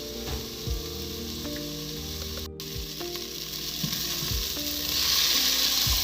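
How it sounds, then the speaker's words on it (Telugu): Tomatoes cooking down in a pan for a chicken dish, a steady, even sizzle and frying hiss with occasional soft stirring knocks, close up and continuous. "టమాటాలు ఇంకా మగ్గుతున్నాయి"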